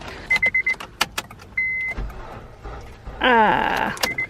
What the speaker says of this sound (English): I'm hoping that this car starts.